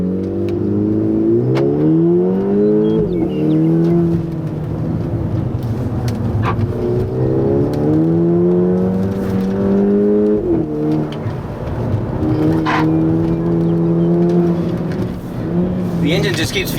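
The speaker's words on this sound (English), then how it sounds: "The engine just keeps feeling better and better. It certainly sounds a lot better now." A stage 2 tuned Volkswagen Golf GTI Mk6 engine revs on a race track, rising and falling through repeated gear pulls in a loud, continuous near drone.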